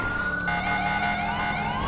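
Police car sirens wail in the video game GTA 5, several overlapping sweeping tones rising and falling continuously, loud and close with no talking.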